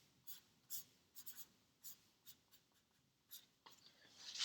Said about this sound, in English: let's write these in.